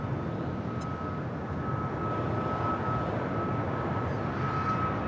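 An airliner rumbles as a steady, broad engine roar at LAX, holding an even level throughout with a faint high whine above it, heard from the airport's edge.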